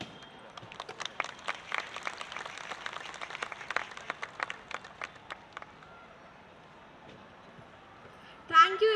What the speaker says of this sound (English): please applaud her with a great round of applause